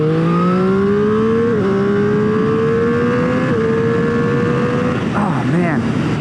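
A 2021 Triumph Street Triple R motorcycle engine revving loudly and steadily, its pitch climbing through gear changes as it accelerates on a track, with a voice briefly heard near the end over the engine.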